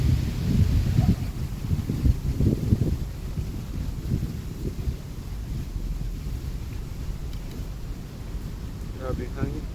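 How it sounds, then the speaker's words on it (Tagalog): Strong wind gusts buffet an outdoor microphone with a deep, continuous low rumble during a JSB pellet airgun test, loudest in the opening seconds and steady throughout, with faint voices in the background. "Grabe yung hangin"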